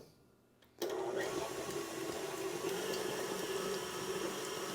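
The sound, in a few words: electric mixer with whisk attachment beating cream cheese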